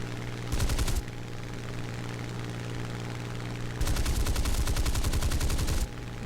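Spitfire Mk.22 or Mk.24 cannons and guns fire in War Thunder over a constant aircraft engine drone, with two rapid bursts, a short one early and a longer one of about two seconds later on.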